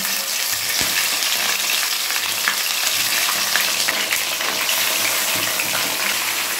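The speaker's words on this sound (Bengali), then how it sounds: "এবার চিকেনটাকে একটু হালকা ভাজা ভাজা করে নিতে হবে।" Raw chicken pieces sizzle steadily in ghee and oil with cumin for a dhaba-style chicken masala. The dense frying hiss is loud and close, with occasional stirring clatter and no talk.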